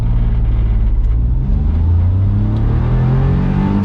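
A Smart ForTwo 450 accelerates hard from rest in a 0-30 mph run, its small engine droning loud and close with rising pitch and a brief dip at a gear change.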